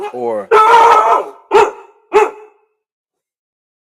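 A dog barking close by, one long bark followed by two short sharp barks, then silence.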